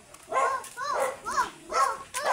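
A dog makes a series of four or five short, whining barks or yelps in quick succession, fairly close.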